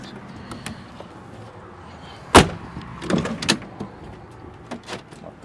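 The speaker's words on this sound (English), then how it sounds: "now this door doesn't want to open" A dented car door after an accident, tried but refusing to open, with a sharp latch clunk followed by several rattling tugs and knocks, close by and otherwise quiet.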